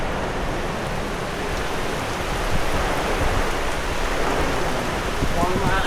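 Heavy rain pouring steadily onto an open-sided shelter with no walls during windy, stormy weather, a dense continuous wash of drops drumming close by, with faint voices in the background.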